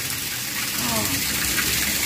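Muddy water gushes from a Sarvo submersible pump pulling from low down, a loud steady splashing outflow that continues without pause, with some talk mixed in.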